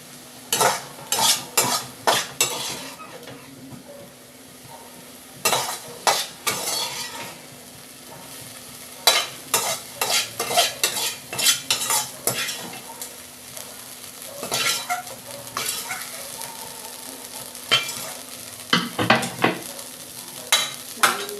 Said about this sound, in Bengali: এবার বাদাম পেস্ট করে রেখেছি যেটা, এটাকে এবার কষিয়ে নিতে হবে।